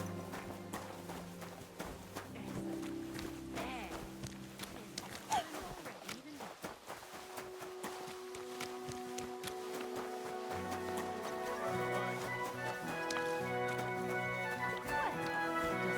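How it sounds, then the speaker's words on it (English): Galloping horse hooves in a medieval open-world game, a steady clip-clop running under layered music and ambient game sound, moderately loud throughout. "This horse must be pretty ferocious."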